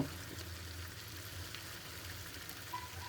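Beef brain frying in oil in a pan for mogoj bhuna gives a steady, close sizzle with soft crackling, held evenly throughout with no voices.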